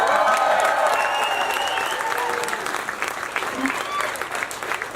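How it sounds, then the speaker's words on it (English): Crowd applause at an animal rights march, a broad, steady wash of clapping with some scattered cheers. It holds fairly loud throughout, then thins a little toward the end. "If you give them a little round of applause"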